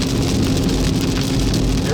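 Hailstones pound the ground and a car during a severe Kansas storm, a loud, steady, dense drumming roar that fills the whole clip without a break.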